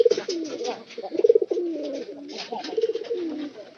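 Pigeons coo close by in soft, throaty rolling calls that repeat in overlapping bursts across the short stretch, with no other sound competing.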